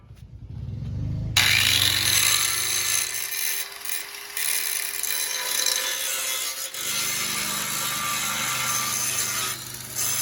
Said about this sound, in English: And we grind.